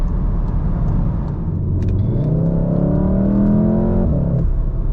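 A 2014–2019 VW Golf 7 R pulls hard under throttle out of a corner in second gear, its engine note rising steadily in pitch from inside the cabin, then dipping at a gear change.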